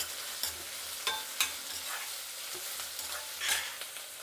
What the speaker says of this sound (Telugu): ఇప్పుడు ఎర్రగడ్డ అన్నీ వేసేద్దామండి, కరివేపాకు, తెల్లగడ్డలు. ఇప్పుడు ఇవి బాగా వేగాలండి.